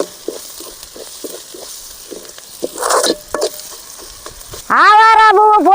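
Avaram flowers sauté in a hot pan with a soft, steady sizzle and scattered light stirring scrapes, followed near the end by a loud tonal squeal.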